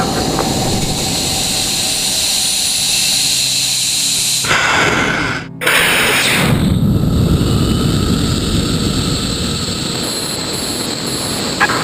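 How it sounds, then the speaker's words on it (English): A missile launch with the rocket engine burning, a loud continuous roar that cuts out sharply partway through, then resumes as a broad, sustained rumbling blast until the end, with no speech. "Missile away."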